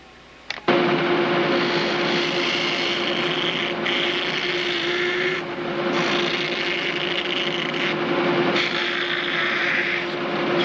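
Steady close rasping of an abrasive stick rubbed over an edge, continuous strokes with brief dips, sustained and fairly loud with a faint hum beneath.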